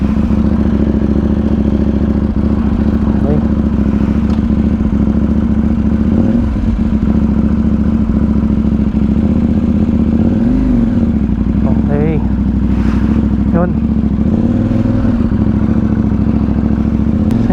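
A KTM Duke 790 motorcycle fitted with an Akrapovic exhaust idles loudly and close, with a few revs swelling and falling, while someone talks over the engine.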